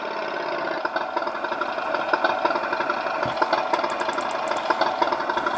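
Motorbike engine idling in the video game Tomb Raider 3, a steady, even mechanical rumble with a rapid regular pulse, continuous and alone throughout.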